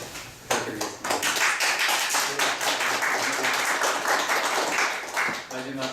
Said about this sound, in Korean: 오늘 발제해 주시고 또 토론해 주신 우리 발제자분께 박수 부탁드리겠습니다.